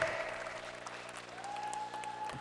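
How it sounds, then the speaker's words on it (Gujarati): A seminar audience gives a short round of clapping at moderate distance, steady and fairly quiet throughout, with a faint tone and a low hum running beneath. "તમને આ સેમિનારમાં મજા આવી હોય તો દિલથી તાળી પાડો ફોર જગદીશભાઈ પટેલ."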